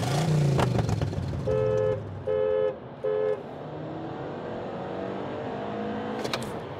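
A car races in a contest between a chipped Toyota Camry 3.5 and a Skoda Rapid Stage 3 1.4 turbo. An engine roars near at first, then three loud electronic beeps sound over a steady road rumble.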